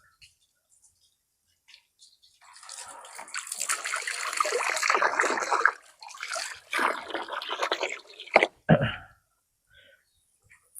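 Water runs steadily from a hose onto seedlings of imported fruit trees in a nursery, a broad splashing hiss lasting several seconds, then breaking into short bursts before it is shut off and goes quiet.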